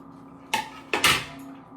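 A knife cuts fresh coriander in a kitchen, producing three sharp, close knocks against a quiet background, the last two in quick succession.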